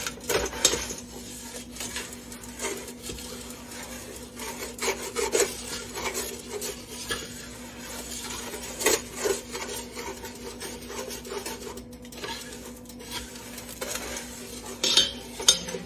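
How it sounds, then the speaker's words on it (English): A utensil stirs and scrapes caramel cake icing around a pot, making steady, close rasping and rubbing strokes with occasional louder scrapes and a faint steady hum underneath. "I'm going to keep stirring it as best I can."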